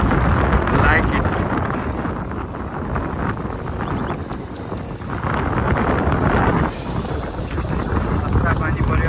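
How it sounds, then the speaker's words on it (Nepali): Strong wind buffets the microphone in a steady, loud roar at the seashore during rain, with gusts swelling and easing throughout; no clear rainfall detail stands out beneath the wind. "खतरा पानी पर्यो, हावा पनि चल्यो होइन।"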